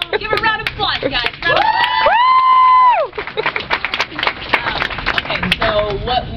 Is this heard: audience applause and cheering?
yes